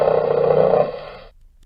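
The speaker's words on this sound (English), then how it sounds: "It was a bear." A bear's roar, presented as an animal sound for identification: one loud, sustained, harmonically rich roar of about a second that cuts off abruptly, followed by quiet.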